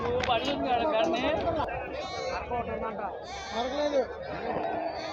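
Goats bleat repeatedly close by at a sheep and goat market in Nallapadu, Guntur, overlapping bleats with people chattering in the background.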